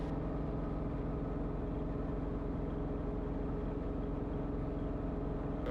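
A helicopter hovers while its engine holds rotor RPM, a loud, constant droning whine with a steady rhythmic pulse and no change in level throughout.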